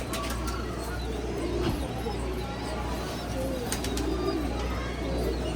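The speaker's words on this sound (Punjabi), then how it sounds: "ਕਬੂਤਰ ਦਿਖਾਉਣਾ ਜੀ ਤੁਹਾਨੂੰ" Pigeons coo softly and repeatedly against a steady, noisy outdoor background. Faint chirps come through now and then.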